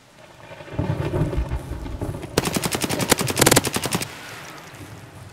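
Automatic rifle fire in the shooter game Escape from Tarkov erupts as a loud rapid burst of about a dozen cracks, after ambient rustle and a low rumble, then falls back to a quiet hiss.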